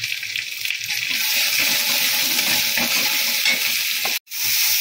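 Cumin and turmeric powder sauté in a pan, giving a steady close hiss and sizzle with faint stirring scrapes and a brief gap near the end.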